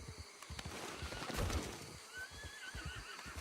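A horse in Red Dead Online whinnies with a rising, shaky call that peaks midway, over soft clip-clop hooves and faint ambient game sounds.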